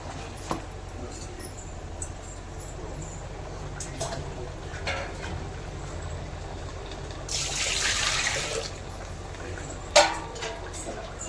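Water is poured into a pot over one kilo of washed, drained seeraga samba rice for biryani, making a short, close gush after quiet kitchen sounds, with a few faint clinks.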